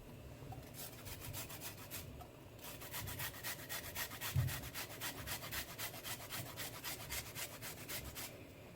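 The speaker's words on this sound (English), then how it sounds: "And I'm gonna grate some ginger." Fresh ginger grated for a Jamaican ital stew, a steady rapid rasping and scraping of root against a grater, close and continuous throughout with no talking.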